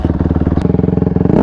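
A Honda CRF150RB dirt bike engine running close up, a rapid throbbing four-stroke pulse with a sharp click partway through, rising into a rev at the end.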